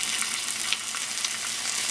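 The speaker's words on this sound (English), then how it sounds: "you hear, the pan is still hot, the stove's still hot" Chipotle-flavoured Cholula hot sauce sizzles in a hot pan on the stove, a steady close hissing fry with faint crackles throughout.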